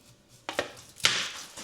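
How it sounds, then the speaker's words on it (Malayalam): Knife chopping washed tapioca (cassava) into small pieces on a board in a home kitchen, two or three close, sharp strikes followed by a scraping sweep, no talk. "കപ്പ കഴുകിയെടുത്ത് കൊത്തി നുറുക്കി നമ്മൾ വച്ചിട്ടുണ്ട്"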